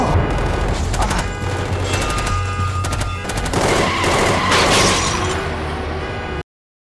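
Rapid automatic gunfire rattles through a film action scene as armed men open fire on criminals, dense overlapping bursts and bangs filling the whole stretch loudly before cutting off abruptly.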